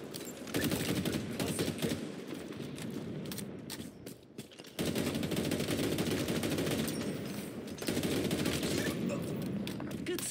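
Dense, continuous gunfire fills a Halo Infinite live fire exercise multiplayer match, with rapid automatic bursts and overlapping shots, loud throughout with a short lull midway, and game voices faintly underneath.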